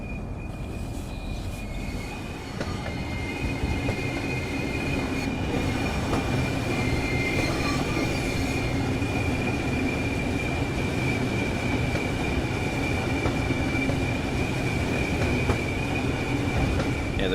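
Train rolling along the Southeastern High Speed route in Train Sim World 3, heading downhill into a tunnel in the rain: a steady rumbling roll with a faint high wheel whine and a light clatter, continuous and even.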